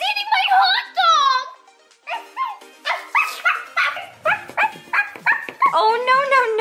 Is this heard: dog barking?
yes